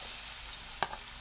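Garlic frying in plenty of oil in a pan, a continuous bright hiss of sizzling with one brief sharp clack partway through, close and steady.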